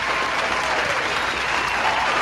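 A brief burst of applause plays on a podcast, a dense continuous wash of clapping at full level throughout, with no voices on top.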